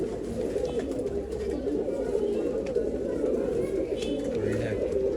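At a pigeon sale in Bangalore, pigeons coo continuously in a dense, low, throbbing chorus close by, with a market murmur and occasional voices in the background.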